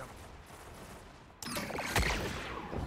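Gunfire in a first-person shooter match: a quiet stretch, then an abrupt burst of overlapping shots, one sharp loud crack near the middle, and continued firing to the end.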